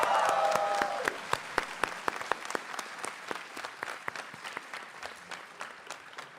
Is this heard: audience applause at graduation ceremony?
yes